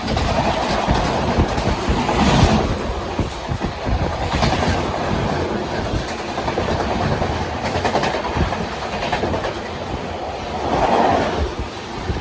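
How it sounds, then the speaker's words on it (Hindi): A diesel-hauled Indian express train runs on rails, a loud continuous roar with rhythmic clickety-clack of wheels over rail joints and swelling rumbles, heard from onboard with no talk. "diesel locomotive"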